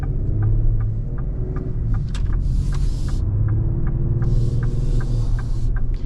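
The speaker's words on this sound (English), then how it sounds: "You do hear the tires though." Tire noise from a 2026 Ford Explorer on the road fills the cabin as a steady, loud hum and low rumble, unbroken through the whole stretch with no one talking.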